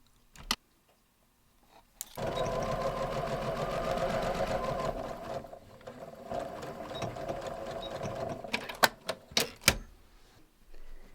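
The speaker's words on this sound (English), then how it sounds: "I'm going to go ahead and sew that one the same way." Sewing machine stitching a pleat on a vest, a steady rapid mechanical whir of about six seconds after a few clicks, then stopping with scattered handling clacks and knocks.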